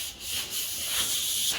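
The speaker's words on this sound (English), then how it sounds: "this is the wet sanding the hood portion" Continuous hissy rubbing of wet sanding on a car hood, close and steady with slight back-and-forth strokes.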